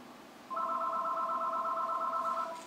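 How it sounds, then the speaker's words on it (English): A telephone rings with a continuous warbling electronic tone for about two seconds, moderately loud indoors, with no voices over it. "I know the phone's ringing,"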